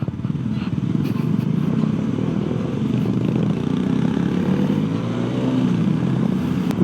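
Motorcycle engines thrum and rev while loaded bikes jolt over a broken, rough road in Nepal, with rattling clatter and a voice talking over the steady engine noise.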